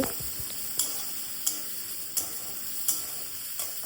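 Green peas for matar paneer sizzle steadily in a hot pan, with a soft continuous hiss and a few sharp clicks of a spoon stirring against the metal at regular intervals.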